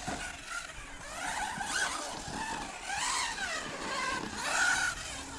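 A Hobao Hyper 10 SC 2.0 short-course RC car on 2S power laps a carpet track, its electric motor whining in repeated rising and falling sweeps, fairly faint and alone.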